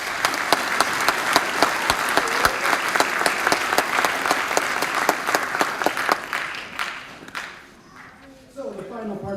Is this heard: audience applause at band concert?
yes